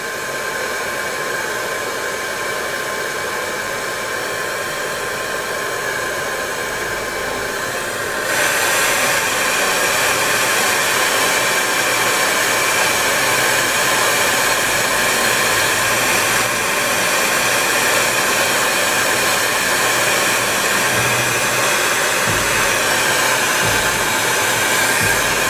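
A hair dryer blows a continuous, loud, close airflow to dry paint on a scale model. It shifts to a slightly stronger, brighter roar after several seconds and then holds steady until the end.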